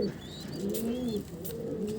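A pigeon chick coos in soft, low, warbling calls, close and clear, rising and falling in a couple of rounded phrases with faint chirps above.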